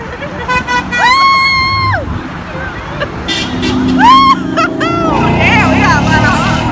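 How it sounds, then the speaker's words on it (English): Cars passing on a road honk their horns in several separate toots, some long and some short, loud and close over traffic noise while people nearby shout and talk. "we got a lot of honks."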